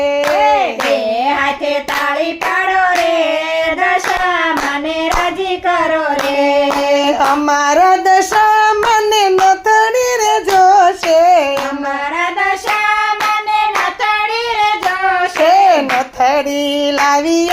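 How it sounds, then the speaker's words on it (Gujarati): Rhythmic two-handed clapping keeps time beneath a sung Gujarati devotional song to Dasha Maa, with sharp, regular claps running throughout under the voice. "બે હાથે તાળી પાડો રે"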